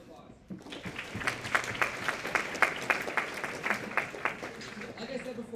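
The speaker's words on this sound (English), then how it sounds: "Can I get a round of applause?" Audience applause at a university ACM student projects presentation night, a steady wash of many hands clapping that starts abruptly after a short quiet moment and holds at moderate loudness for several seconds.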